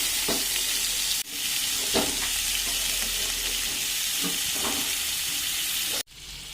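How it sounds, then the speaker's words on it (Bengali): Meat and potatoes fry in spiced oil with a loud, continuous sizzle and hiss, broken by periodic stirring scrapes and two sharp clatters of a utensil against the pot. "মশলা থেকে তেল ছাড়তে শুরু করেছে, তাই আমি দিয়ে দেবো এর মধ্যে এবার মাংসটা"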